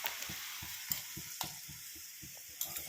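Black cumin seeds fry in hair oil in a pan, making a faint, steady sizzle under a soft, regular rhythmic stirring beat with a few sharper pops. No one speaks.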